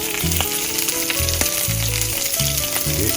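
Ahi tuna frying in a pan with garlic, shoyu and rosemary gives a steady, close sizzle with occasional low knocks and scrapes from stirring.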